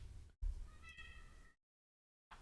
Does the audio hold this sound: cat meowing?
yes